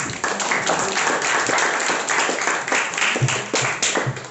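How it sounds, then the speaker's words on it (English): Audience applause at a Sunday-morning speakers forum meeting, dense steady clapping from a crowd filling the room, loud and continuous throughout with no voices on top. "So I need a big round of applause for this"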